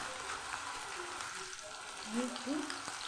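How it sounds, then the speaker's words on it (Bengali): Onion paste sizzles and fries in a pan over a raised gas flame for a Bengali okra and katla fish curry, a steady close crackle with a couple of louder bursts near the end. "প্রথমে দেব এবার গ্যাসের ফ্লেমটা বাড়িয়ে দেব প্রথমে দেব পেঁয়াজ বাটা"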